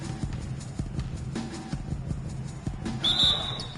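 Referee whistle in a PS4 basketball video game, one short shrill blast near the end over a steady bed of game crowd noise and squeaking, thumping court sounds.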